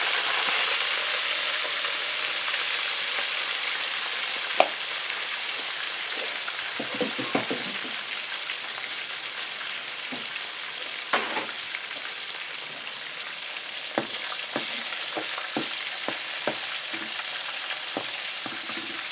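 Chicken wings marinated in fish sauce deep-frying in hot oil, a loud, steady sizzle close by with scattered sharp pops and crackles of spattering oil throughout.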